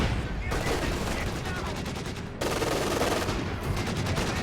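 Machine gun fire in Company of Heroes 2 from an MG team garrisoned in a forward building, with dense rapid bursts filling the whole stretch and a brief dip before the firing picks up again.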